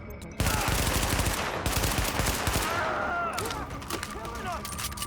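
Video game gunfire as hostiles are shot: dense rapid automatic bursts, loud and close, fade into scattered shots and electronic game effects, and a voice can be heard over part of it.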